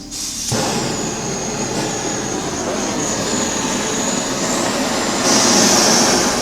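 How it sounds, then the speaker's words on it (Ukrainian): A portable gas burner with its gas supply opened gives a steady, loud roaring hiss that starts abruptly after a brief quiet moment and holds evenly, swelling slightly toward the end. "Відкриваємо подачу газу."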